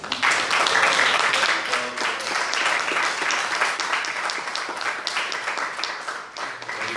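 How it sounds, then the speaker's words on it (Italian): An audience at a Mediterranean studies course applauds in honour of the late Roberto Papini, a dense, sustained round of clapping across the whole stretch with a slight dip near the end. "Io farei veramente un applauso a lui."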